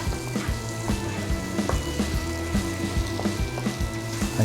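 Shrimp frying in a pan: a steady sizzle and crackle with regular soft thumping and scraping from the cooking, close by and without talk.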